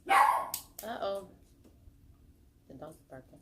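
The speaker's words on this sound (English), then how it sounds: "The dog's barking." Short, close dog barks and yips mix with a person talking indoors; the loudest bursts come at the start, followed by quieter vocal sounds.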